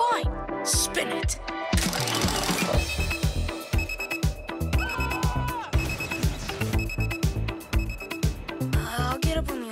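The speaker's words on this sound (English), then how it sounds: "I'll get up when the alarm goes off." An alarm clock rings amid a busy, bouncy cartoon music remix, its repeated bell-like tones mixed with beats, sound effects and brief sung voices throughout.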